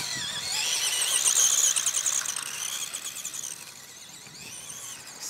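A Tamiya RC buggy spinning on a sandy beach, a high whining electric motor squeal that surges loud then tapers off, with gritty scatter over a soft background.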